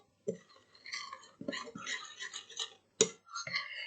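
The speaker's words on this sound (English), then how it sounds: "Now I'm just going to take my spoon, mix that up a little bit." A spoon mixing ingredients in a bowl, with clinks and taps in an irregular rhythm, close and fairly quiet.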